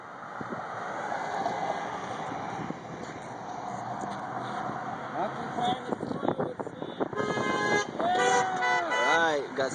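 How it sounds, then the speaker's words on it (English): Passing supporters honk car horns at an outdoor street rally, several toots rising in the latter half over wind noise and a speaking voice. "got supporters driving by and honking"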